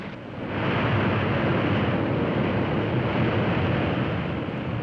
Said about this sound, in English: you hear the engines roar soon after you're on the ground, remember that's what he's doing, reversing the props to stop the airplane